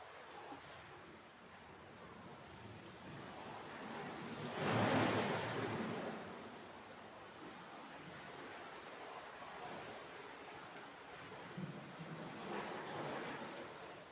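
Water at a long lagoon in El Nido, mixing cold fresh water with salt water, gives a steady soft wash throughout, swelling into a louder surge partway through before settling back to a gentle, even rush.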